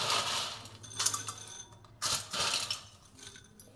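Dry crackling and rattling of crisp fried Indian namkeen snack being stirred or shaken in a pan, in uneven bursts, close by with no voices.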